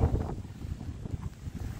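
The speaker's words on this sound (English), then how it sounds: "Wow, it is windy out here." Blustery wind outdoors buffeting the microphone, a steady low rumble with gusty swells throughout, fairly loud and with no voices over it.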